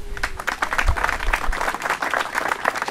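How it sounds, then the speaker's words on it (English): Applause at a park dedication ceremony honoring staff: a crowd claps steadily and fairly loudly for about three seconds, dense overlapping claps with no speech over them. "so give them a round of applause"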